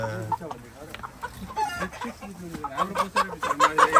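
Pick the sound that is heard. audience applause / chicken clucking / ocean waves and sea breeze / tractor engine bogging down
chicken clucking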